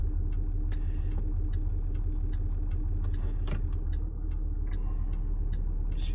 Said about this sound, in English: there's a bloody great lorry coming down the road